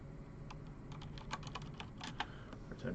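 Quick, faint keystrokes clatter irregularly on a computer keyboard over a low background hum, several keys tapped in short bursts.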